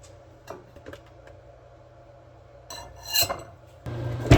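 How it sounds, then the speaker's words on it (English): Cutlery cuts through a pie on a plate: a few light scattered taps and clicks, then louder scraping strokes against the plate near the end. "Gonna cut our pie"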